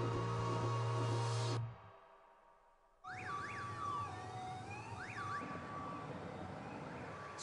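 An ambulance siren in an animated series wails in steady rising and falling tones after a brief drop in sound, loud and continuous over low traffic rumble.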